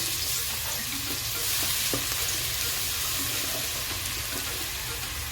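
Garlic frying in hot oil for a creamy coconut chicken dish, a steady, dense sizzle that holds evenly throughout with faint clinks underneath and no voices.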